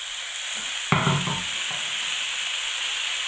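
Mushrooms drop into a hot wok with a sudden burst of sizzle, a few scrapes following, then a steady hiss of frying settles in.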